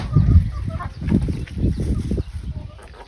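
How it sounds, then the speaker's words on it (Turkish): Farmyard chickens cluck in a close, busy flock while being fed by hand at a village coop, with bursts of hen calls rising and falling over a few seconds and faint human voices in the background. "Güzel mi beslemek tavukları?"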